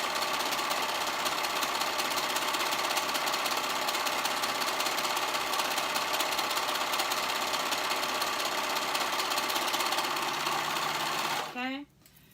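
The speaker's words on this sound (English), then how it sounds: "Okay, so I'm sewing the two sides together, making sure that both sides are caught in there." A sewing machine runs steadily for about eleven seconds, stitching the sides of a child's sweatpant leg together with a fast even whir, then stops abruptly at the end.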